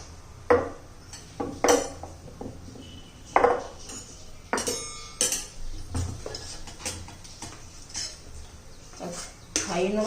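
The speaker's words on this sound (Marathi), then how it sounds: "आता आपण वाट्यांमध्ये भरून घेऊया." Breakfast batter being ladled into small bowls, with steel utensils and bowls clinking and tapping in irregular bursts close by, while someone talks over the kitchen sounds.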